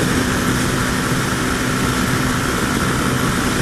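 A Honda CB300 motorcycle is ridden at speed at night, giving a loud, steady engine drone mixed with rushing wind noise that holds constant throughout, with no speech.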